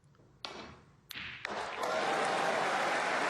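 A snooker crowd at Waterfront Hall bursts into applause after a few sharp thuds, the clapping swelling quickly into a loud, steady ovation filling the hall.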